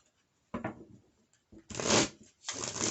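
Rider Waite tarot cards being shuffled in three separate bursts of riffling and flapping, close and fairly loud, with brief quiet gaps between them and no talking.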